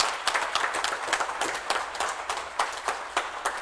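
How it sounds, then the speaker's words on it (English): Audience applause at the SJVN DRISHTI Conclave 2022 corporate conference: a dense, steady crowd of clapping hands fills the room at even loudness throughout, with no talking over it. "A round of applause once again for all of you."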